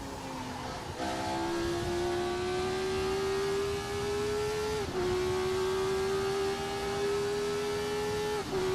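Radical race car engine in the Assetto Corsa video game drones at high steady revs, pitch climbing slowly through gears with two brief dips at shifts, loud and continuous with no talk.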